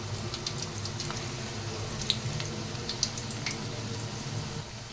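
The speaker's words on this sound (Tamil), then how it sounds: "ரெண்டு பக்கமே ஆயில் நல்லா ஃப்ரை ஆகி நல்லா முருகலாக வரணும்" Corn flour snack balls deep frying in hot oil, a soft steady sizzle with faint crackles and pops at close range, with no talking.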